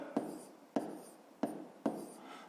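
Pen strokes on paper while writing out a grade 5 math solution, four distinct scratchy strokes spaced evenly, each starting sharply and trailing off, close and alone.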